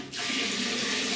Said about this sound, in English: Let's see the power of the water.